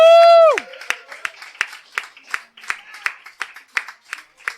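An audience in a bar or restaurant applauds the wait staff with scattered, rhythmic clapping that starts after a cheer and keeps going steadily, fairly close.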